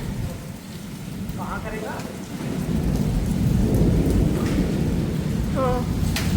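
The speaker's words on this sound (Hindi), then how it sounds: "बहुत तेज बारिश आ रही है" Heavy rain pours down during a violent storm in the NCR, a dense roaring wash with deep rumbling that swells midway, with faint voice fragments briefly heard.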